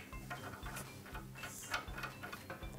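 Oiled French horn parts being screwed together make soft, close metallic ticking and ratcheting clicks in a fairly regular rhythm, quiet and without talk.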